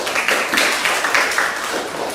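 Students in a classroom lesson applaud, a brief, busy patter of many hands clapping together at close range, holding fairly steady throughout.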